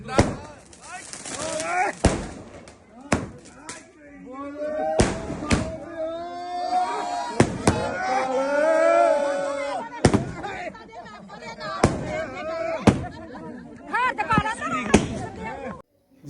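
Fireworks go off at an outdoor Congress election victory celebration in Punjab, with loud sharp bangs cracking out repeatedly at irregular intervals while a crowd shouts and people talk throughout.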